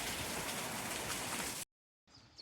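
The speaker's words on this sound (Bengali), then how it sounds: "এখন দেখা যাচ্ছে যে অনেক বৃষ্টি হচ্ছে" Heavy rain pours down onto a flooded street in a dense, steady roar, cuts out abruptly, then returns more softly after a short silence.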